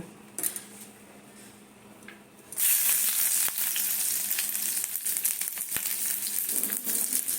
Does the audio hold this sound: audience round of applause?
no